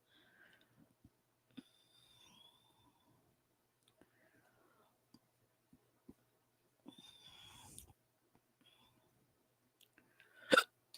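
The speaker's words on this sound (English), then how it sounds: "I got the hiccups" A person hiccups several times at irregular intervals, short sharp catches of breath, close and quiet, with soft whispery breathing between them and one louder burst near the end.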